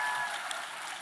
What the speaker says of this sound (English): Please, can we have a huge round of applause on that?